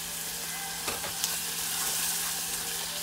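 Four garlic cloves sizzle steadily in a hot pan, a close, even hiss that runs throughout with a couple of faint stirring taps and no talking.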